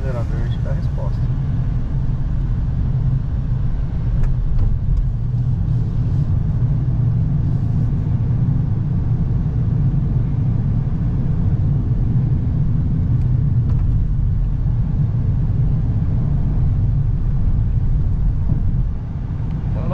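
A Ford Maverick pickup cruises along with a steady, low engine and road rumble that stays even throughout, as people talk inside the cab.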